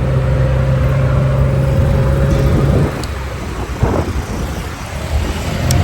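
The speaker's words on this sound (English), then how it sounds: "no trip to Thailand is complete without having a tuk-tuk ride" Tuk-tuk ride through Chiang Mai, Thailand, with a loud engine drone and steady tone that drops off midway, then wind and road noise rushing past the microphone up close.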